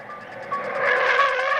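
A car in the Halloween film speeds down a road and then brakes hard, a sustained tyre-and-engine roar that builds loudly before cutting off abruptly near the end.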